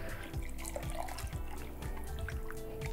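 Buttermilk poured into vegan pumpkin bread batter, a steady close liquid stream with continuous gurgling and dripping throughout.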